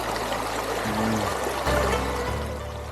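A small snow-fed mountain stream in Aru Valley, Kashmir, flows steadily with a close, continuous trickling and gurgling wash.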